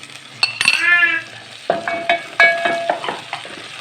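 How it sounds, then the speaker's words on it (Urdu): Ginger garlic paste fries in a pot for masoor dal, with a spoon scraping and stirring in short bursts over a soft, steady sizzle, heard close up. "اس کو تھوڑا سا ہم نے اس میں فرائی کرنا ہے"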